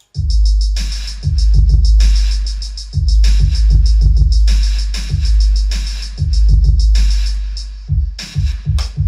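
Booming, sustained 808 kicks with deep sliding tails form a loud beat made in FL Studio, with bright hi-hats and snappy percussion ticking over the low end.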